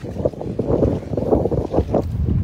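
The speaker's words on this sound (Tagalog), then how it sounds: "medyo malakas talaga yung hangin." Steady, strong wind buffets the microphone, a continuous low rumble with gusty surges and no voices.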